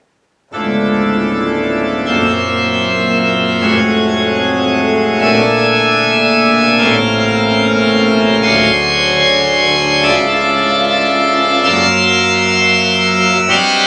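Slow, sustained piano minim chords by Messiaen ring out one after another, each held about two beats before changing, played alone with no voices and a gentle steady resonance.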